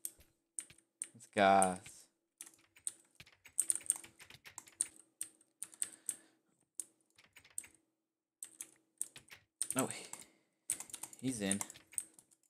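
Keyboard typing in a Viper HCF solo game session, a scatter of light key clicks and taps running through most of the stretch, with people speaking intermittently over it.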